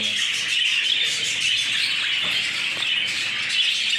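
Many budgerigar chicks chirp and twitter continuously up close, a dense, busy chatter of high cheeps with faint fluttering.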